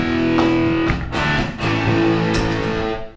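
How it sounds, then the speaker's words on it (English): Heavily distorted electric guitar power chords ring out loud and close, struck in a few sustained hits with brief choppy breaks, no voices. "There's nothing cooler on the guitar than cranking out those power chords"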